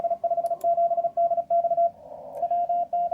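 CW Morse code radio signal heard through a narrow 500 Hz filter, a clean steady tone keyed in quick dots and dashes over faint background hiss, with brief crackles.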